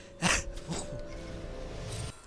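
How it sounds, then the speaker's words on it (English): An esports commentator covering a Paradox Dominion Championship match gives a short, close throat-clearing cough, followed by a quieter second rasp against a faint steady background. "Excuse me, I coughed a little."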